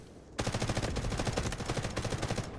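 An M4A1 rifle in Delta Force fires a sudden, sustained automatic burst of rapid, evenly spaced shots at an enemy, loud and close, lasting about two seconds.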